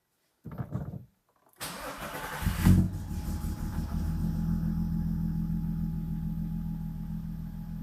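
A cold car engine starts on E85 after a fuel pump replacement: a brief starter crank, a pause, then a catch with a loud rev flare settling into a steady, rumbling idle, nearby and alone.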